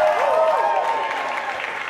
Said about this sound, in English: I honestly don't know why you're cheering.